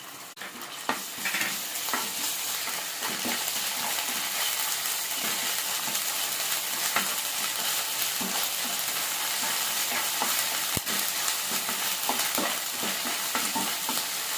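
Ginger garlic paste fries with browned onions in a pan for a ridge gourd and dried snail curry, giving a steady loud sizzle with scraping stirs and occasional clinks throughout.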